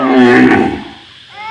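A water buffalo lets out a loud, drawn-out moo that swells and then fades over about a second, close to the listener, with no talk over it.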